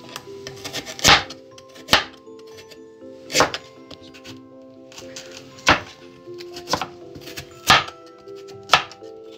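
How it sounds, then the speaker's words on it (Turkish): A knife chops carrots on a cutting board in sharp, irregular thunks, close up, with faint kitchen background between strikes. "Havuçları doğruyoruz."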